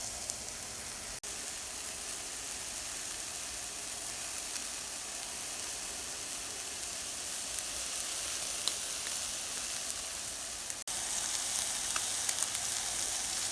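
A whole piece of filet mignon with Cajun seasoning sears in a hot pan, giving a steady, even sizzle that stays alone and fairly quiet throughout, with a couple of faint clicks.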